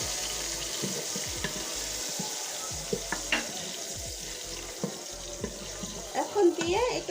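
A paste of ginger, garlic and onion hits the hot pot for chicken biryani and fries with a steady sizzle, broken by clinks and stirring knocks, near and moderately loud, with brief bits of voice in the background.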